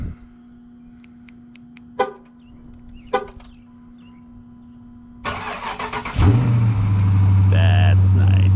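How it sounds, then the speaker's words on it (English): A 2018 Dodge Challenger started with a key: a few faint clicks and chimes, then the starter cranks and the engine catches into a loud, steady idle close by. "Let's start the car with a cool key."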